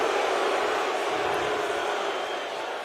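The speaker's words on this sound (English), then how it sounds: "Crowd doesn't like the spot." Football stadium crowd at an NFL game, Colts at Titans, voices a steady broad roar of disapproval over a disputed ball spot, sustained and loud without a break.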